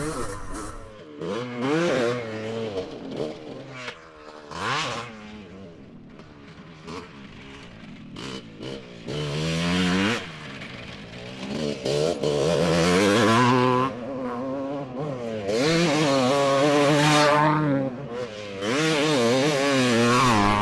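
A 47-year-old two-stroke motorcycle being ridden, its engine buzzing and revving up and down loudly and continuously, close to the microphone, with rising and falling pitch as the rider works through turns and jumps.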